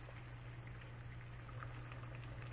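Water boils in a pan, a steady low bubbling rumble with soft irregular pops, quiet and continuous with no talking.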